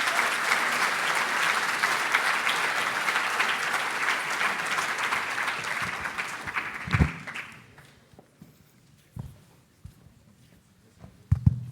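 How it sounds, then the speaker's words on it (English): An audience applauds a presenter at a startup demo day in Frankfurt, dense clapping for about seven seconds before it tapers off abruptly, leaving a few scattered thumps and handling knocks in a quiet room. "Round of applause for Tony."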